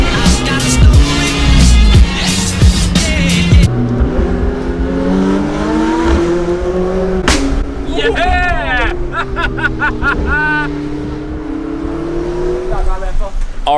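Car engine revving hard in a loud burst, with rising and falling pitch sweeps as the throttle is blipped, over a crowd's babble and nearby voices.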